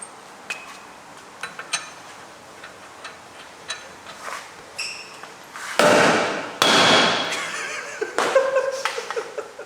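A hammer strikes a suspension part under a BMW E60 M5 in a garage, starting as scattered light ticks and clinks, then landing several loud metallic whacks close by.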